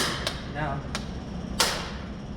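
Three sharp metallic strikes spaced unevenly, a hammer hitting a manual impact driver to loosen a screw during thermostat replacement on a 1995 Volvo 850 Turbo, with some background noise in between.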